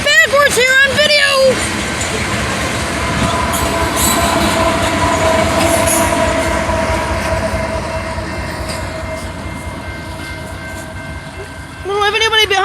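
A train with its locomotive running backwards rolls past close by, a loud steady rumble of wheels with squealing and clatter, a horn blast at the start and again at the end.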